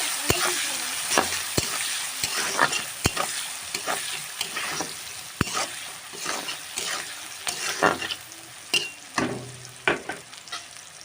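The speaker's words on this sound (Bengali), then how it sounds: "দেখো পেঁয়াজটা আমি হালকা লাল করে ভেজে নিয়েছি" A large chopped onion frying and being stirred in hot oil tinted with turmeric, with a steady sizzle under repeated sharp scrapes and knocks of the spatula against the pan, close and fairly loud throughout.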